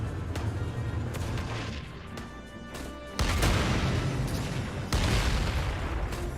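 Heavy tank cannon shots from Valkyria Chronicles 4 boom out in a series of sharp, loud blasts, with a bigger impact around the middle followed by rumbling aftermath and another strong hit, all without talk.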